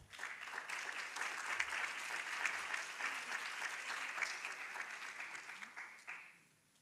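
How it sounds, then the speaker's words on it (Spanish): Audience applause welcoming professor Rafael Pizarro at a gerontology lecture, steady dense clapping from a crowd that holds for about six seconds and then fades out. "Le invitamos a recibir con un afectuoso aplauso al profesor Rafael Pizarro."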